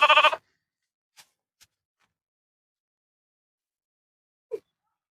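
A sheep, from a flock that includes a horned ram, gives one short, close bleat, followed by near silence broken by a few faint ticks and one brief low sound.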